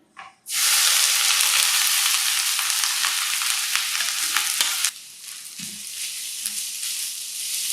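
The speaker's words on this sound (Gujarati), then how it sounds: "જે હળદર આપણે છણીને રાખી છે એને આમાં સાંતળી લેવાની" Grated fresh turmeric drops into hot ghee in a kadai and bursts into a loud, sudden sizzle that holds steady, then eases to a lower hiss with occasional stirring scrapes.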